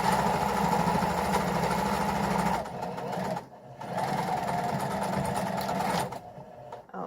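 Sewing machine stitching curtain fabric for rod pocket curtains, a close, steady motor whir with a brief pause midway before running on, then stopping near the end.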